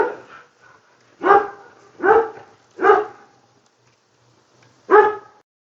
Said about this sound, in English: my dogs are going to bark in the background and be annoying